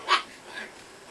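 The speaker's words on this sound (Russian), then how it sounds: "начинают лаять очень громко" Small Chihuahua dogs give one short, fairly faint yelp or bark and then a softer second one, heard indoors with no speech.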